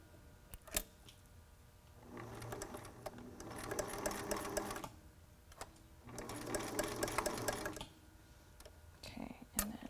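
A sewing machine stitches elastic onto a face mask cut from a T-shirt, running in two bursts of rapid mechanical whirring separated by pauses with small clicks and handling noises.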